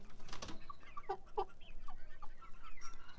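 Jungle fowl rooster in a backyard pen giving a few short, soft clucks spaced through a quiet outdoor scene, with a brief rustle near the start.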